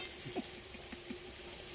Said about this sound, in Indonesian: Masuk dalam kuali, dia kita goreng betul-betul.